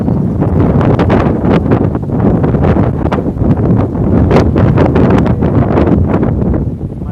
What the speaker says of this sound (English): Might be getting a little bit too windy here.